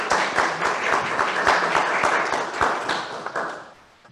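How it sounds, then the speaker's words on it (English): A congregation claps during a church service, a dense, close round of hand clapping with distinct individual claps that carries on steadily for about four seconds before tapering off. "So we'll give her a clap here"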